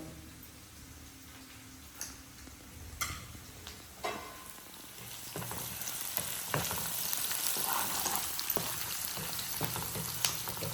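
Onions sizzle and fry in oil with a pinch of salt, cooking toward golden brown for a Rayalaseema ragi sangati and natukodi pulusu meal; a steady frying hiss builds louder over time, with a few sharp ticks and stirring clicks.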